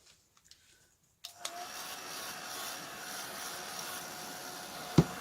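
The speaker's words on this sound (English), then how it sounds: "I get my heat gun" A heat gun switches on with a click and runs as a steady broadband whoosh of blowing air over the edges of a paper smash book page, fairly quiet and close, with a sharp tap near the end.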